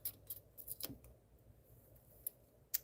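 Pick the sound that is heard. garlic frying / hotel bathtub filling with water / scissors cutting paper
scissors cutting paper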